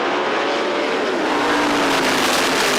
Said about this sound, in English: Cars lining up down to the start. Listen to them as the green flag flies.